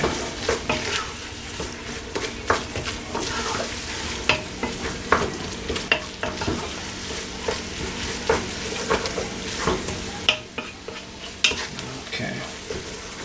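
Onions and sausage fry in a pan as a spoon stirs them, giving a continuous sizzle punctuated by repeated scraping strokes and clinks against the cookware, close up with no speech.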